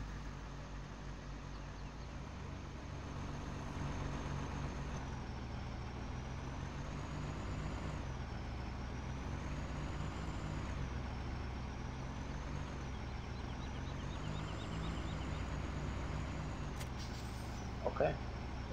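A truck engine in Farming Simulator 17 rumbles steadily, rising and falling in pitch as it revs, with a brief hiss of air brakes near the end.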